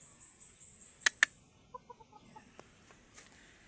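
Backyard chickens give a few soft, faint clucks in a quiet outdoor setting, with two sharp bright clicks or knocks near the start.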